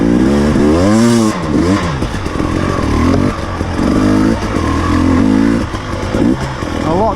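A KTM 300 TPi two-stroke dirt bike ridden in motos, its engine loud and close throughout, rising and falling in pitch as it revs through gears with steady high-energy noise.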